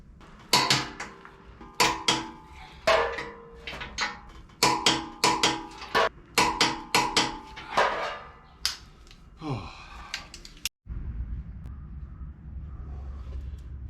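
Sharp metallic clicks and ratcheting snaps ring out in a rhythmic series as a torque wrench tightens the side bolts of a Smittybilt rear bumper on a Jeep JK, close and clear, fading to quiet shuffling at the end.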